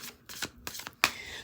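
Tarot cards being shuffled by hand in a quiet room, several soft riffling bursts in a brief irregular rhythm ending in a sharper, louder flutter, heard close up.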